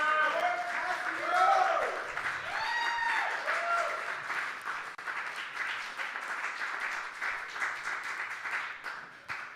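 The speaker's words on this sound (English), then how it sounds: "Just wait for the round of applause to finish." A round of applause from a live audience, sustained and full, with cheering voices and whoops rising over the clapping before it gradually settles.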